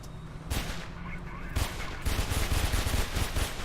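Bursts of gunfire in the video game Mirror's Edge, several loud clustered volleys close together, with a brief lull before rapid repeated shots resume, and a voice faintly underneath.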